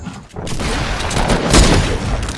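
Rapid bursts of gunfire and booms from an Xbox video game, dense continuous shooting with heavy explosive thumps, loud and close.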